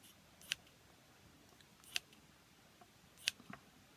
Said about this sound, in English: So then what I do is get my scissors